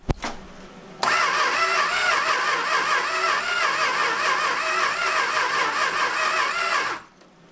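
An abandoned Dodge Monaco, locked up for more than 40 years, cranks steadily on its starter for about six seconds. The whirring is loud and close but the engine never catches, then it cuts off abruptly.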